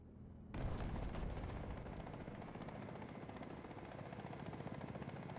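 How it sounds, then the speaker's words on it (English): A helicopter in the War Thunder tank battle game thunders in with loud, continuous rotor chop close by, mixed with gunfire and heavy booms, the noise holding steady with no voices. "Looks like we do hear a helicopter here behind us somewhere"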